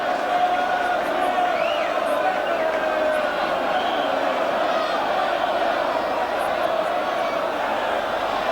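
West Ham's travelling fans roar as their side wins a corner in the 1990 League Cup semi-final at Oldham. The crowd cheering and chanting holds as a steady, dense wall of sound, with a commentator faintly under it.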